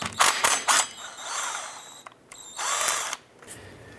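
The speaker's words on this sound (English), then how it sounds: "We're going to go ahead and use our Allen swivel extension and our impact to remove all of these." An impact wrench with an Allen swivel extension backs Allen bolts out of a 2002-2007 Jeep Liberty drive shaft flange, giving close, loud ratcheting bursts of hammering with short pauses between them.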